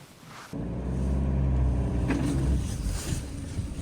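A converted camper van's engine revs hard trying to move through about 30 cm of deep snow, starting from a quiet moment and then roaring loud and steady with a low rumbling drone.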